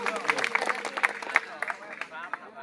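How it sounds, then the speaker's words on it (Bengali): An audience applauds a teacher at a district science fair prize-giving, with scattered, moderately loud clapping that thins out over a few seconds while voices carry over it. "ওনার জন্য জোরে করতালি"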